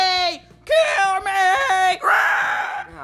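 Game characters scream and wail in drawn-out, high-pitched, wavering cries, several loud bursts in a row with brief gaps, close and dominating the sound.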